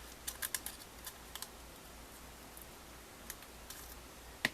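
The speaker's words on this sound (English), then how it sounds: "I'll just straighten it up with the scissors." Scissors trim a sewn gusseted bag in a series of light, crisp snips and clicks, some clustered and some spaced apart, close by against a soft background hiss.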